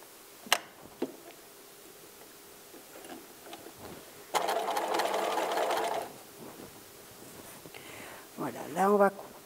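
A sewing machine stitches fabric for a gift bag in a steady burst of about two seconds midway through, with faint handling clicks and rustles around it and brief quiet talk near the end.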